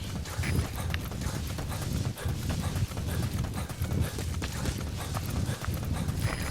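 A horse's hooves clip-clop at a steady walking rhythm over open ground in Metal Gear Solid V: The Phantom Pain, close and continuous, with a faint voice briefly underneath.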